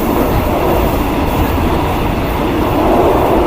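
Thailand border train running at speed, a loud steady rumble and rattle of wheels on rail heard from inside the carriage, constant throughout with no voices.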